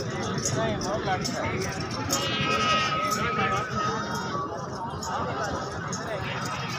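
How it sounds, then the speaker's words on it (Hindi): Goats bleat at a livestock market where a nanny goat with two kids is offered for sale, the calls rising repeatedly over dense crowd chatter and background noise. "ये बकरी ये बच्चा जनाब थले"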